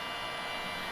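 A heat gun blows a steady, broadband rushing hiss while shrinking heat shrink tubing over a soldered wire joint during an intake manifold swap on a 5.3L Silverado, constant and close for about a second.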